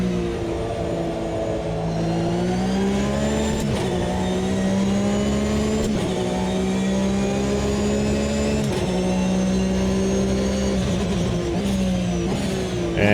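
A Porsche 992 Cup race car engine in the Automobilista 2 racing game drones loudly and continuously, its pitch rising and falling through gear changes as it revs along the track, with no voices.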